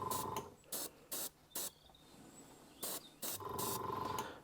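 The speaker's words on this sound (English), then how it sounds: "we're just going to come in nice and close with this airbrush and start building up some dirt on the underframe" An airbrush sprays weathering dirt onto a model railway wagon's underframe in several short hissing bursts separated by brief pauses, with a longer continuous spray at the start and end, close and fairly quiet.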